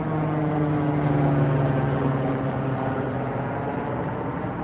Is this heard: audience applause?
no